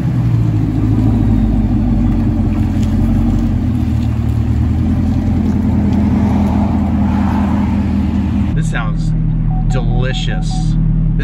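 A Camaro ZL1 with a Corsa Extreme exhaust rumbles close and loud with a deep, throaty drone, its engine note shifting as it revs and drives, before dropping to a lower idle burble near the end.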